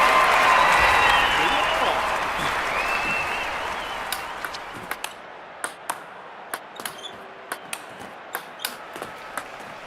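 Applause from a crowd at a table tennis match, loud and dense at first, then fading after about four seconds into sparse, sharp ping-pong ball bounces and hits.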